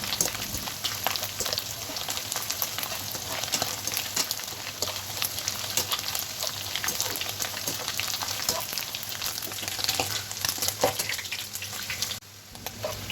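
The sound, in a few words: dried mola fish frying in oil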